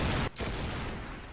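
Gunfire from the video game Arsenal, a dense burst of rapid shots cut by a brief pause, then resuming steady and loud to the end, with no talking.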